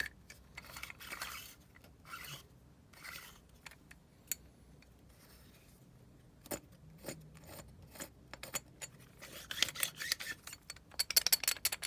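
Dry rasping and scraping bursts, irregular and close, with intermittent clicks and rattles, growing louder toward the end; no voices.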